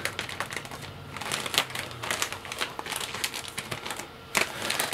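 A padded envelope is folded around a comic book, giving a close run of crinkling, crackling rustles and sharp crisp snaps of the packaging, with no talk.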